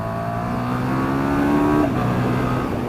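A 2017 KTM 1290 Super Duke R engine pulling hard under acceleration, a steady loud rising drone with clear harmonic whine that climbs, then drops at a shift before continuing.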